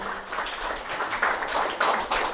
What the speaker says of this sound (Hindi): आप लोग कम से कम जोरदार ताली बजाकर हौसला अफजाई करेंगे